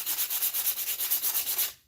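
Hand sanding a wooden mallet with 100-grit paper, a quick steady rhythm of rasping back-and-forth strokes, close and alone, stopping abruptly at the end.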